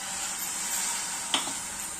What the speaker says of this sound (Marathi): खूप छान हलवून हे पहा